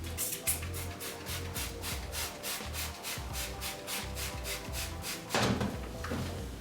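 Someone scrubs the inside of a fridge ice machine with Clorox Clean-Up cleaner, making a steady run of quick, even rubbing strokes close by, with one harder, louder scrub near the end.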